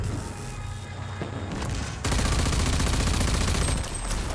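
A dense video game barrage of mortars and gunfire, continuous rapid shots and booms that swell louder midway and stay intense, close and without speech.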